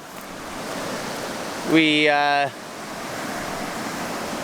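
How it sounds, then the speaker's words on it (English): Rapids on a remote Arctic river, a steady broadband rush of whitewater heard from nearby, with someone briefly speaking over it partway through. "we just got to another set of rapids. It was sounding pretty beefy"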